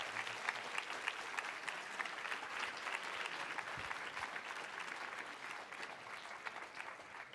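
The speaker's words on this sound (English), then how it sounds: "a big round of applause to thank him so much for coming today" A large audience at a forum in Vancouver applauds steadily and continuously, a dense wash of clapping heard from within the room.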